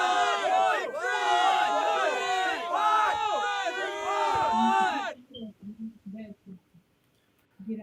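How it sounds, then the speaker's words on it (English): A crowd-noise sound effect plays during a trivia game show: loud cheering and yelling from many voices for about five seconds, then it cuts off abruptly, leaving brief low murmurs. "Let me give you a little crowd noise."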